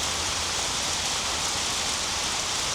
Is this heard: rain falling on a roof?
yes